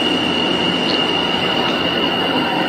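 A subway train in a video game rolls along steadily, with a constant loud rumble, a sustained high wheel squeal and faint rhythmic track clatter, and no voices over it.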